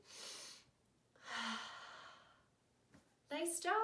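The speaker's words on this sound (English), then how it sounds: "I want to see you do the best drain breath I've ever seen" A child does a deep breathing exercise, drawing in one long breath and then letting out a slow, audible exhale close to the microphone, followed by an adult's voice.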